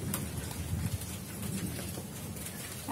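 Steady rain falls outdoors, a dense continuous hiss of drops with no voices, holding an even, moderately loud level throughout.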